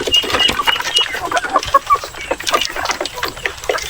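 Native chickens on a farm cluck busily and close by, with overlapping calls and short squawks running throughout and no talking.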